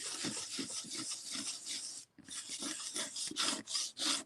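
Sandpaper rubbed lightly over a stencil on paper, a close, soft rasping scratch in steady back-and-forth strokes with one brief pause partway, quiet and alone.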